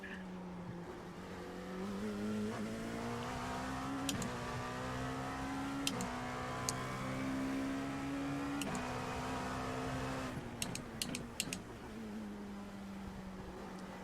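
Race car in a racing video game driving at speed, a steady engine whine shifting in pitch over fourteen seconds, with a burst of sharp rattling clicks near the end as the tyres run over rumble strips.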